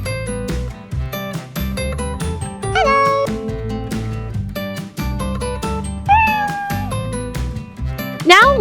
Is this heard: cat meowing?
yes